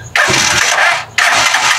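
A Rusi Chariot 175 motorcycle is started with two short bursts of cranking, close and loud, separated by a brief pause.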